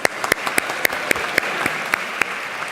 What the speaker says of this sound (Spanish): Y otro aplauso al BNI por haber organizado esto.